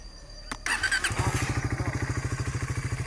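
A motorcycle cranks briefly, then catches and fires up, settling into a steady, throbbing idle close by.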